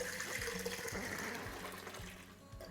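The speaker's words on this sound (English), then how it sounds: "Pour in the corn mixture" Corn mixture for atole de elote, a Mexican sweet corn drink, pours into a pot as a steady close liquid splashing and gurgling with a few soft knocks, without talk.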